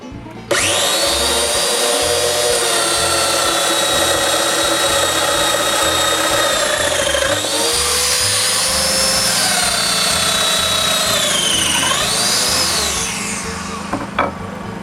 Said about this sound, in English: I mark the placement of the domino mortises and make them.